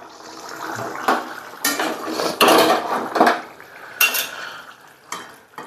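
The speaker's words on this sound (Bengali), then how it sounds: "তো বন্ধুরা মাংসটা কিন্তু আমি এখন এই গামলার মধ্যে নামিয়ে নিচ্ছি" Cooked chicken curry being scooped from a pot into a large bowl, with repeated loud metal spoon scrapes and clanks against the pot in irregular bursts, close up and without talk.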